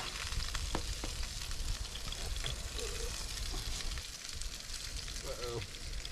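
Salmon frying in a pan at a dispersed campsite gives a steady, close sizzle throughout, with small pops and light clinks. A voice speaks briefly partway through.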